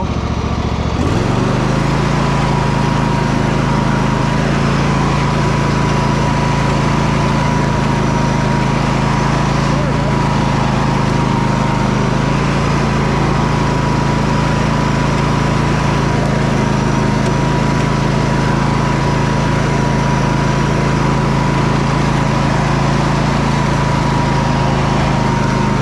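An Ariens lawn tractor engine starts and runs steadily and loud at raised throttle, a continuous close drone with a low rumbling tone that holds for the whole stretch.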